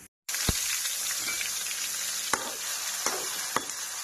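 Green chilies and garlic sizzling in refined oil in a kadai, a sudden steady hiss after a moment of silence with a few sharp clinks and scrapes of a spoon, fairly faint and close, no speech.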